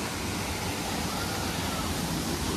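Nangoloan Falls in San Felipe, Zambales, with water dropping into deep, clear pools; a steady, dense rush of falling water fills the whole clip, close and constant, with no voices on top.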